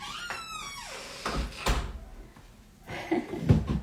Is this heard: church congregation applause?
no